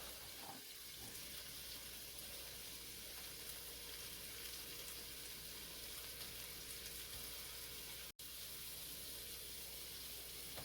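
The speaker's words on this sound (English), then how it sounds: "a cup of shrimp that I have measured out, that I'm letting fry up right now" About a cup of shrimp fries in a pan for Chinese-style shrimp fried rice, giving a steady, faint hiss and sizzle that runs unbroken throughout.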